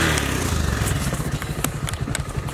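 Motorcycle engine running steadily on a wet village track in Nepal, a continuous close rumble with rattling clatter and small sharp knocks over it.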